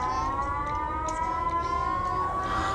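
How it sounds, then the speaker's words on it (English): A civil defense siren in the series Watchmen wails steadily with a long, sustained tone at a moderate distance, with faint background noise and no speech. "Our characters hear sirens."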